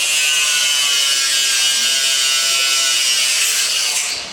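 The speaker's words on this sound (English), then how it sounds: "look what happens when we use a grinder." An angle grinder cuts through cable conduit on a work site, a loud, steady high-pitched whine with a gritty abrasive edge that holds for several seconds before tapering off.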